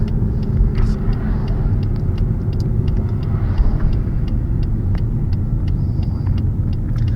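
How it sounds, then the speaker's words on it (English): Steady car road noise and low engine rumble from inside a vehicle slowing with regenerative braking, continuous and fairly loud with faint ticks over it, no talk. "I'm using some regen braking right now"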